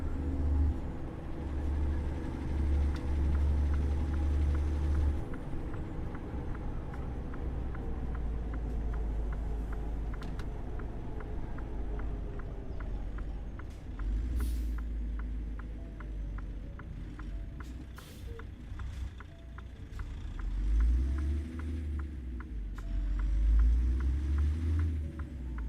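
Highway traffic in American Truck Simulator, a continuous low engine rumble with vehicles swelling and fading as they pass, steady and moderately loud with no talking.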